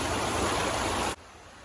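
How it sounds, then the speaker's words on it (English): River water on a Michigan river runs as a steady, loud broadband rush that cuts off abruptly to a quieter wash near the end, with no voices. "The water's running."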